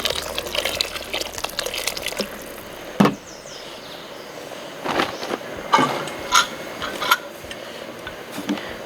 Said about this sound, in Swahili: Then tuongeza maji.